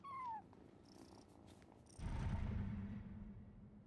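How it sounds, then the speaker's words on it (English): A cat sound from the Genshin Impact video game, found while exploring Sumeru ruins. A short high cry comes first, then a steady, fairly loud low rumbling purr starts about halfway through and carries on to the end. "And so I followed the cat's cries to find my way out."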